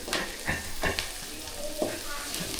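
Onions frying until golden brown sizzle and crackle steadily in a hot pan, with occasional scraping stirs, close and fairly quiet.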